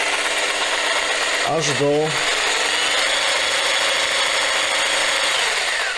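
A Bosch GST 160 BCE jigsaw runs at its lowest speed with a steady, even mechanical whir, and a short voice cuts in near the start.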